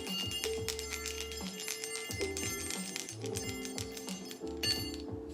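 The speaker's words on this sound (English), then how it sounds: "I love ringing the healing bells." Healing bells ring in a calm spiritual session, sounding repeated sustained metallic tones that overlap in a steady chiming pattern, close and moderately loud, with no talking.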